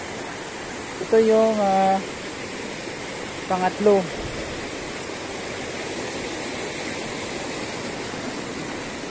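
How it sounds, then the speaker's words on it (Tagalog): Pangabitkabiton Falls in Barangay San Jose, Jamindan, Capiz, Philippines, the third waterfall, roars as a steady, loud, even wash of falling water throughout, with a voice speaking briefly over it early on. "pangatlong waterfalls"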